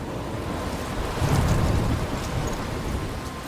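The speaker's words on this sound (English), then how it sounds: "I'm trapped in a storm?" A rain and thunder storm in the video game Life is Strange: steady heavy rain hiss with a deep rolling thunder rumble that swells in the middle and fades, with no voices.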